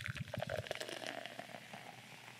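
Coca-Cola poured into a glass, giving a close, bubbly gurgle with fizzing that trails off over about two seconds, with no talk during the pour.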